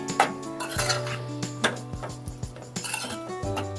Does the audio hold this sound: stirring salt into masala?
yes